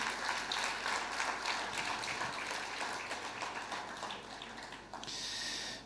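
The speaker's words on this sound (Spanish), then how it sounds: "Fuerte ese aplauso de alabanza al Señor." A church congregation claps in praise during a revival service, a soft, dense patter of many hands that continues steadily throughout and sounds fairly distant.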